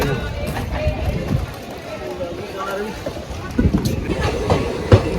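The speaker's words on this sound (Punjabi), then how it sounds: "ਕਹਿੰਦੇ ਆ ਟ੍ਰੇਨ ਆ ਦੇਖ ਰਹੇ ਹੋ ਤੁਸੀਂ" A train stands at and moves through Himmatana, a rural Punjab station, giving a steady low rumble with rhythmic clattering and some louder knocks near the end. People talk quietly under the noise.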